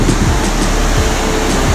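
Rushing water pours through a channel near a crowded outdoor spot, a steady broadband roar with gusty low rumble, loud and continuous throughout.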